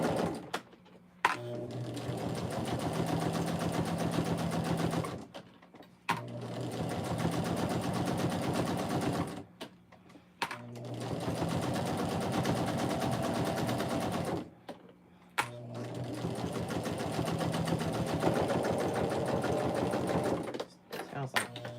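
A sewing machine stitches a key fob in four long, steady bursts of rapid needle hammering, each stopping abruptly before starting again, close and loud.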